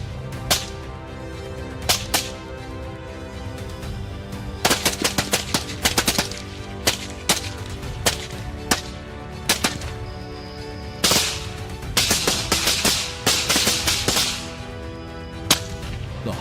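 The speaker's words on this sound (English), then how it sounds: "I managed to adjust my rifle and fire in rapid succession" Rifle shots at wild boar crack out in rapid succession, sharp loud reports in irregular bursts and clusters over a continuous background bed of music, with no speech.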